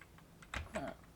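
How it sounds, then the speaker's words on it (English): Keys pressed on a Perkins braille writer, a few faint close mechanical clacks and a soft thunk in quick succession, quiet and alone. "I'm going to type the same thing I typed before in Perkins."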